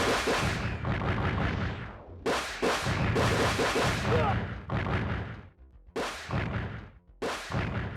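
Gunfire in a PS1 video game, loud crunchy low-fidelity shots in rapid bursts separated by brief silent gaps, close and harsh.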